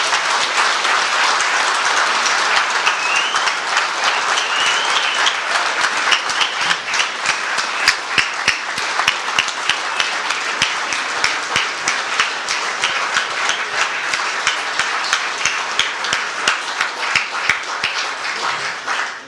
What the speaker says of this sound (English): as you can see from the very generous round of applause